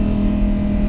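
An Audi R8 V10 Performance quattro Spyder with a naturally aspirated engine idles steadily, a loud even drone with a strong low hum and no talk.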